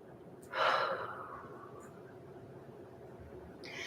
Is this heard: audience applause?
no